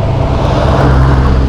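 Road traffic rolls past on a rural road near a developing subdivision, a loud, continuous low engine rumble and tire roar close by with no break.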